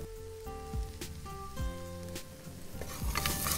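Coriander, turmeric and red chili powder roast in hot oil with a soft, steady rain-like crackle, faint beneath background music.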